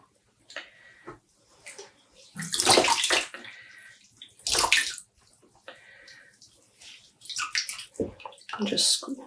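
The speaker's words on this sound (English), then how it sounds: "Just pushing it gently to rinse it properly." Dyed self-striping yarn pushed gently under water to rinse, a series of sloshing, splashing bursts with quiet gaps between, close and moderately loud.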